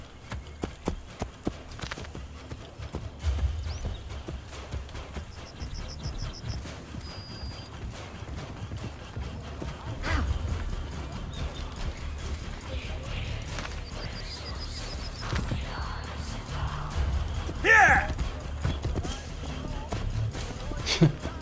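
A horse gallops in Assassin's Creed Brotherhood, a steady drumming of hoofbeats with a brief whinny, running under a player's chatter.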